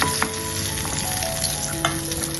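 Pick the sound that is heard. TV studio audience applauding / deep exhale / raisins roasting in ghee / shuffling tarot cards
raisins roasting in ghee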